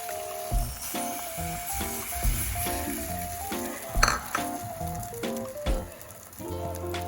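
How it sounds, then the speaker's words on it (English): Egg frying in melted butter in a pan while an omelette sandwich is made, giving a steady close sizzle with occasional utensil clinks and stirring scrapes throughout. "once the butter is melted, we will pour the egg."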